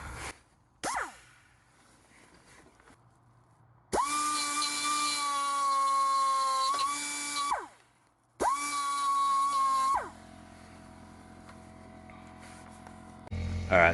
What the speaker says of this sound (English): So I'm gonna die grind it.